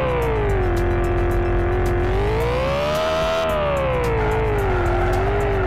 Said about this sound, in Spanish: Así que estoy acelerando a toda velocidad